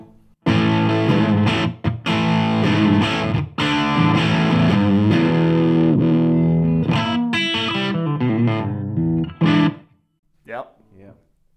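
An electric guitar played through an amp modeler with reverb and echo off rings out loud and distorted in sustained chords, then breaks into short stabs before trailing into silence.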